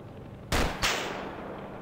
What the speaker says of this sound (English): Looks like my guy's shooting right through me.